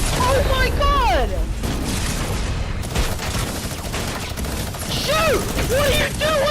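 Gunfire in a plane-mode shooter video game, a loud sustained stream of rapid shots with mechanical clatter, running alongside excited shouting from a player.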